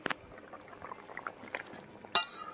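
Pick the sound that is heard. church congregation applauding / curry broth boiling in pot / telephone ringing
curry broth boiling in pot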